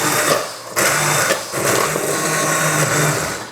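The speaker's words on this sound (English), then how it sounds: "So let's just use my stick blender." Stick blender whirring through a pot of chilli chicken lentil soup, a loud motor drone with brief dips and surges as the blade catches and is repositioned, no talking.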